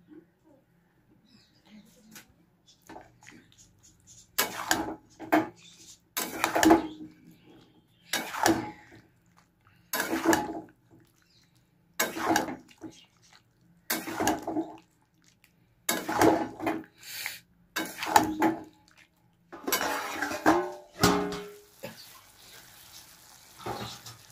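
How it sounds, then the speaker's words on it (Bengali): Cauliflower and poppy seed paste, with the water used to rinse the poppy seeds, go into a hot cooking pan for a Bengali cauliflower-potato posto dish. Repeated sharp sizzling bursts and stirring scrapes come close up, with quiet gaps between them. "এবার আমি ফুলকপিটা ঢেলে দিচ্ছি, পোস্তটা দিয়ে দিচ্ছি, তার সঙ্গে পোস্ত ধোয়া জলটাও দিয়েছি।"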